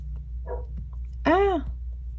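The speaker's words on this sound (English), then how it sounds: "My dog's barking." A dog gives one short, rising-then-falling bark or yelp. A faint vocal sound comes just before it, all over a steady low indoor hum.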